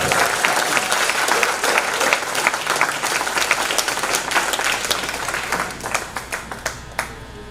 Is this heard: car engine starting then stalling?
no